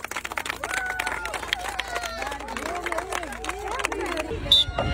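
Applause and cheering from a crowd at a party game, with loud voices calling out over scattered clapping and a brief sharp whistle near the end.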